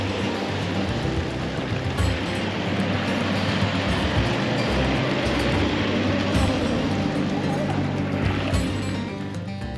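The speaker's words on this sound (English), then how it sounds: "we're coming down to the campground and you've got to go over a bit of water." A vehicle drives through a shallow water crossing on the way into an outback wilderness campground, giving a continuous close rushing splash and churn of water under engine rumble, with talking faintly mixed in.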